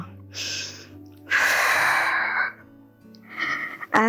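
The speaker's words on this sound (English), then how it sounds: "Inhale. And exhale, press." Deep audible breaths drawn in and pushed out during a reformer-style core and lower-body workout, loud and close, in long alternating inhales and exhales with no talking.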